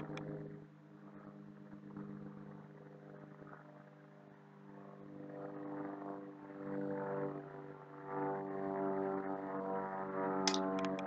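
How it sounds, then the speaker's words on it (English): A propeller airplane drones steadily overhead, its low humming engine tone swelling slightly as it passes, with no talking. "And sorry about the noise of the plane."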